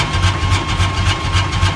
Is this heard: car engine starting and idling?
yes